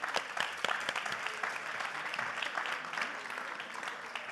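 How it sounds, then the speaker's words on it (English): Scattered applause from an audience at a science contest, a patter of claps that continues steadily, moderately loud and slightly distant. "Thank you. Applause."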